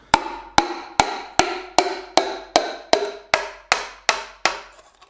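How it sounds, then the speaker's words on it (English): Twelve evenly spaced taps of a wooden hammer handle on a piston in a Suzuki Samurai 1.3L engine block, sharp and close, repeating at a steady rhythm about twice per second with no talking. "hit the top of the piston with the wooden handle part of a hammer"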